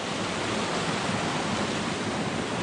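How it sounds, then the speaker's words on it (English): Steady roar of a small waterfall in the woods near Payson, Arizona, constant rushing water close by with no pauses. "such a small falls, it makes a lot of noise"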